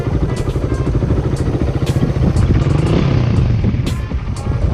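A Raider 150 motorcycle engine idles steadily after carburetor tuning in cold weather, a close, loud, even putter that holds for several seconds with no talk.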